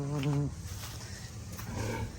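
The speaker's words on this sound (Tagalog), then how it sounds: "Maingay yung baboy guys." A loud harmonic animal call at the start, then a second grunting squeal later, like a noisy pig nearby over background noise.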